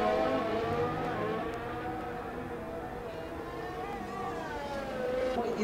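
A Formula 1 race car in a racing game roars past, its high engine whine sweeping in pitch over a steady motor drone, fairly close and continuous, with faint talk underneath.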